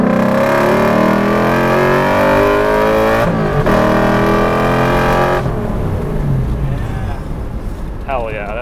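A V8 drift truck with a performance limited-slip differential accelerates hard in second gear, its loud harmonic engine roar rising steadily up close, then a brief shift break before the engine drones on lower, with voices heard near the end.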